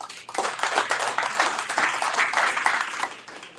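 A round of applause for an event sponsor, Colonial Electric, at a contractors' gathering: a crowd of hands clapping steadily and fairly close for a few seconds.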